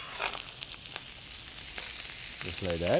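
Chopped onion tossed into a pan of browned sausage, frying with a steady bright sizzle and some stirring, while a person speaks briefly near the end.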